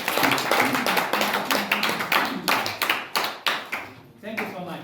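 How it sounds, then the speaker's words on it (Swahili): Audience at a school thanksgiving mass claps in response, a run of crisp individual claps at moderate distance that thin out toward the end, with voices talking underneath. "Haya, pigia makofi."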